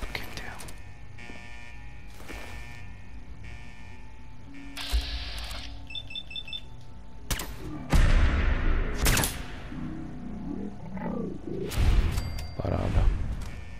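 Several sharp gunshots ring out in the Fallout 4 video game amid other game noises, with a couple of heavier, louder blasts later on and someone speaking over parts of it.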